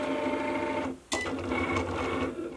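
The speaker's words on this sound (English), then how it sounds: "I'm just gonna press my Cricut button and it's going to start cutting." Cricut cutting machine slicing glitter iron-on vinyl on its mat. A steady, close mechanical whir and rattle with a brief pause partway through, then the motorized buzzing resumes.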